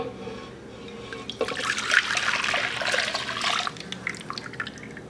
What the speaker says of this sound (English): So now I'll move my water, my yeast, and my sugar into this large mixing bowl.